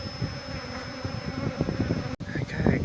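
Bees buzzing densely during the relocation of a hive from a chimney, a close, continuous droning swarm with a brief dropout near the end.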